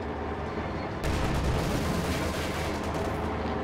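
A Firefly tank cannon firing in Company of Heroes 2, a sudden loud blast partway through followed by a dense roll of gunfire and explosions in a busy battle din.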